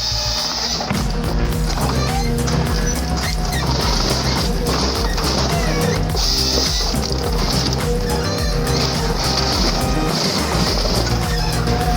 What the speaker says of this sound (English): The Komatsu 901XC, with 811 pound-feet of torque, grips, cuts, and processes a 33-foot tree in seconds